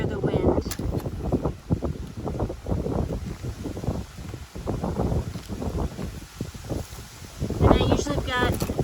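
Strong wind gusts outdoors while a bee hive smoker fire is lit, a loud, continuous rumbling buffet on the microphone that swells and eases, heaviest near the end.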